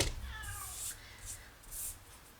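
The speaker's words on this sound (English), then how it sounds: "Can we hear the cat upstairs, Tinker?" A cat meows faintly a few times from a distance, soft and muffled, with quiet room noise in between.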